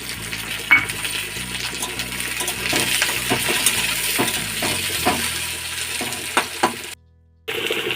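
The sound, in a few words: chopped tomato added to frying pan, sizzling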